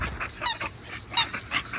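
American bully dogs playing outside in the heat, with close quick panting breaths and short whimpering yips in an irregular rhythm, no talk over them.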